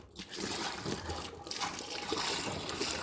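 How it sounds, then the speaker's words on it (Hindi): Water poured into a container to mix an organic pesticide produces a steady, close trickling and sloshing stream that runs continuously without talk. "इसमें अपन पानी मिला के कंप्लीट कर देंगे"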